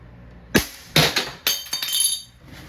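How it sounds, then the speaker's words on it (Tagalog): A Walther CP99 Compact airgun by Umarex fires steel balls, probably at a glass bottle. Four or five sharp, loud cracks come at irregular intervals, close by, each followed by a bright glassy clink, with no talk. "firing Walther CP99 Compact"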